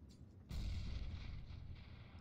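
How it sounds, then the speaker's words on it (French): Grenade explosion in CS:GO, a single low booming blast that swells suddenly and rumbles on with a long, rough tail, loud against faint game background. "Grenade out."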